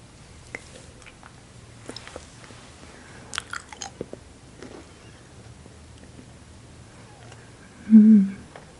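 Crunchy Jelly Belly jelly beans chewed close to the mouth, soft crunching and biting bursts scattered through a quiet stretch, ending in one louder chomp near the end.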